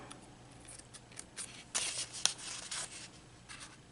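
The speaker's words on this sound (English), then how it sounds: "I'm going to cut that out." Scissors snip through paper while a junk journal page is cut out, a quiet run of soft, close cuts and rustles over a faint background hiss.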